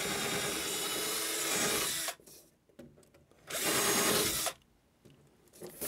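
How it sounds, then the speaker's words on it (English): Two bursts of rough scraping and grinding as a raised burr is removed and a drilled hole in wood is cleaned out, each about two seconds long with quiet pauses between. "now I'm going to take off that burr. It was raised there. And we'll clean out the hole."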